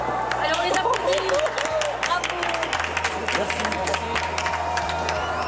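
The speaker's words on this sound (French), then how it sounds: "Alors, on les applaudit." A television studio audience at X-Factor claps steadily and cheers, with dense, close claps over a murmur of crowd voices.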